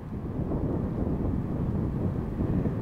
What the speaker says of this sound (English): I hope everybody can hear me through the wind.